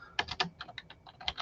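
Code is typed on a computer keyboard in quick, uneven bursts of close, crisp key clicks, with no talking.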